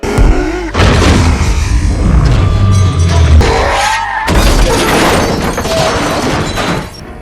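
Malfunctioning robot replicas of Autobots in a Transformers action film fire missiles and gunfire wildly, producing a loud, continuous barrage of booms, crashes and blasts with almost no break.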